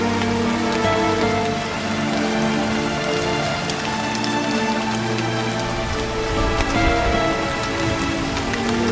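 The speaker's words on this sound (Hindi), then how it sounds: "पिछले 5 घंटों की बेतहाशा बारिश और तबील जर्द हवाओं के बाद" Heavy rain pours steadily onto a camping tent after hours of downpour and cold wind, a dense, continuous patter of drops drumming on the fabric close by, with no voices.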